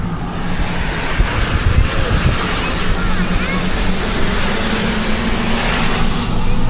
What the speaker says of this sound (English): The creek is hammering.